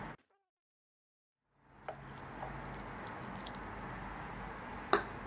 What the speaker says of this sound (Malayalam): ഇനി ഇതിലേക്ക് വെള്ളം ഒഴിച്ചു കൊടുക്കുക